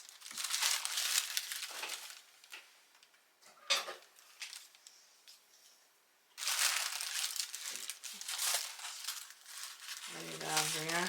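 Decoupage paper is cut up close, making crisp crinkling and rustling bursts separated by quiet pauses, with a short tonal sound at the end.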